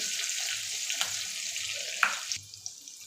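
Curry leaves and finely chopped coriander hit hot oil with asafoetida, making a bright, steady hiss that crackles briefly before settling to a quieter sizzle.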